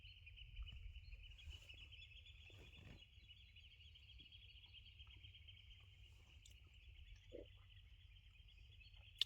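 Faint, distant bird calls and chirps sit over a steady high insect-like drone and low rumble in a quiet outdoor setting on the Scottish west coast.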